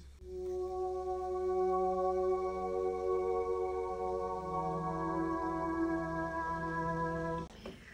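A soft, sustained piano chord from a Piano Colors preset, processed with RC20 reverb and EQ for a sleepy winter lofi track, held evenly with gentle shifting notes and a low hum beneath, then cutting off near the end.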